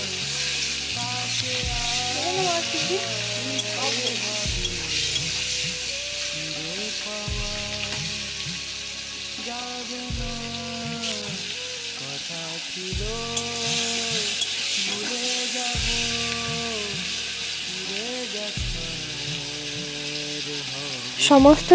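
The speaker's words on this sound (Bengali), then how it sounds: "তেলটা গরম হয়ে গেলে আমি চিংড়ি মাছগুলোকে ভাজার জন্য দিয়ে দিলাম" Prawns frying in hot oil for a jackfruit and prawn curry, a steady sizzle running throughout beneath a continuous musical backing, with occasional stirring clatter.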